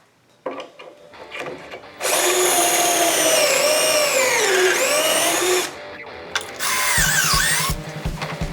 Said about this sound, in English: I'll go ahead and pop a couple holes in this board.